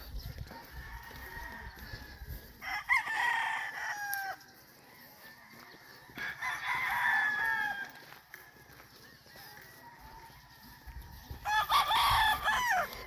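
Gamecock roosters crow three times at spaced intervals on a farm in Murcia, Negros Occidental, fairly close, with softer clucking and farmyard noise in between.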